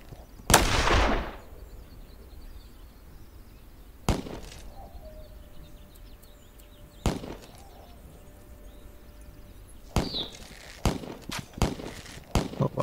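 Sparse single gunshots from a multiplayer survival video game, a sharp loud blast near the start followed by several fainter, widely spaced shots over a quiet ambient background.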